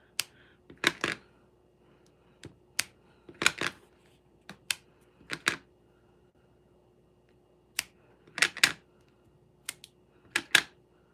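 Horseshoe stamp inked with Versamark pressed repeatedly onto paper, a series of sharp taps in irregular clusters, some single and some doubled, close and crisp over a quiet room.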